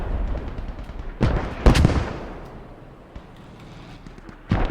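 Tank cannon fire in a war video game: a few heavy, booming blasts with rumbling decay, one especially loud near shot in the middle, another at the end, over low battlefield noise.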